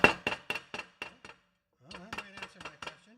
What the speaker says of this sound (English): I'm not quite sure which hammer to use.